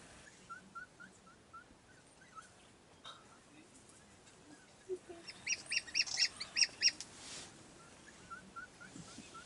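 African wild dogs at a den where returning hunters feed pups, giving repeated high chirping, twittering calls that build from sparse faint yelps into a louder rapid cluster, with distant bird-like squeaks throughout.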